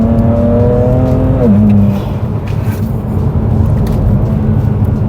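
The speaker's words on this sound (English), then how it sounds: "we'll do a rolling anti-lag in second gear here." BMW 335i with N54 engine and upgraded turbo accelerating in second gear with rolling anti-lag, loud close engine drone that drops briefly then holds a steady gritty roar.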